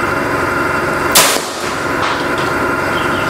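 A Predator OD 38 Monolite air rifle fires a single sharp, loud shot that cracks once and fades quickly against a steady background hum.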